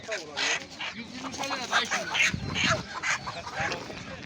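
Chickens at a poultry market in Sungurlu, Çorum cluck and squawk close by, with voices talking over and between them.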